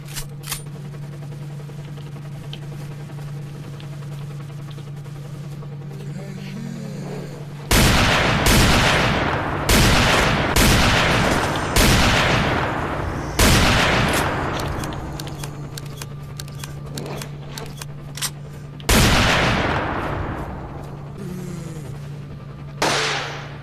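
Pistol gunfire in the video game S.T.A.L.K.E.R.: Shadow of Chernobyl: a run of sharp, loud single shots at irregular intervals, each with a short decaying echo, over a steady low hum.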